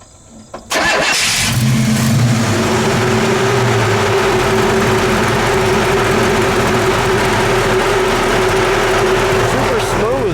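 A 1968 Buick GS 400 V8 cranks and catches, then settles into a steady, loud idle with a sustained low rumble. Engine fans whir close by and persist throughout.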